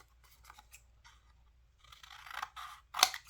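Scissors snip through paper while layered craft tags are cut: soft, sparse snips at first, then a louder run of crisp cutting strokes ending in a sharp, close closing snip.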